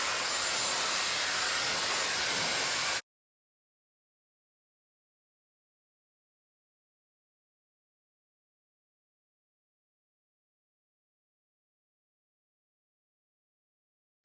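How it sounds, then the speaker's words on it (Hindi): A Dyson Airwrap hair dryer attachment runs at medium heat and high airflow, giving a steady, rushing blast of air for about three seconds before cutting to silence. "This is a dryer setting. इसमें मैं मीडियम हीट कर रही हूँ, हाई फ्लो कर रही हूँ एयर का।"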